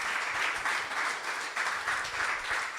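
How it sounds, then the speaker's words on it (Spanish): Applause from a church congregation during an evening Spanish-language sermon, a steady sustained clapping that fills the whole stretch at even loudness with no voice over it. "denle fuerte el aplauso al Señor esta tarde."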